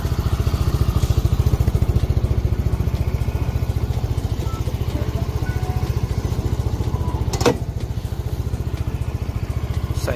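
A Rusi Force 150i motorcycle engine, sharing its engine with the Adventure X, idles steadily close by with an even, rapid thrum and a single brief clack partway through, no voices.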